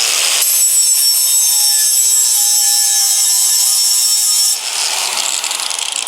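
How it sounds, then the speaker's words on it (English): A handheld grinder fitted with an aluminum flat disc grinds away material in one loud, harsh, continuous pass lasting several seconds, then eases to a lighter, rougher grind, close by with no talk. "The grinder feels amazing. Pretty light. The trigger on it's badass."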